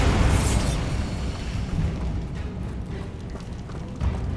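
Bombarda spell explosion in Hogwarts Legacy, a loud booming blast at the start that decays into a rumbling, crackling tail with debris-like clatter.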